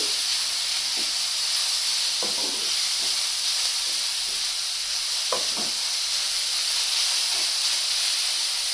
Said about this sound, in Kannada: ಒಂದು ನಿಮಿಷ ಫ್ರೈ ಆಗಲಿ.